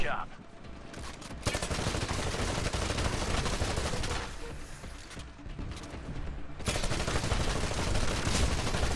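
Dense automatic gunfire from a Titanfall match, with rapid bursts and volleys filling most of the stretch, dipping briefly mid-way before another loud burst.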